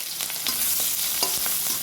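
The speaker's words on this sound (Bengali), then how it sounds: "পেঁয়াজগুলো ভাজা ভাজা করে নিয়ে এক করে সমস্ত মশলা অ্যাড করব।" Chopped onions fry and get stirred in hot oil with black cumin and green chilies. A loud, steady sizzle runs throughout, with scraping stir strokes breaking through at intervals.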